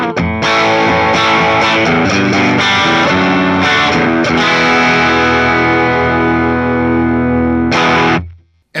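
Electric guitar played through the Blues Maker overdrive pedal, version 2, modeled on a Fender Tone Master Pro: a loud, continuous stretch of gritty, saturated chords and riffs that rings out, then cuts off sharply near the end.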